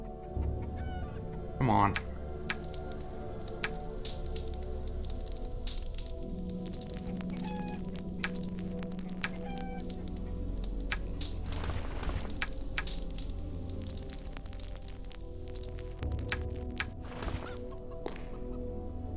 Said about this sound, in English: chickens are kind of a little bit unique in the game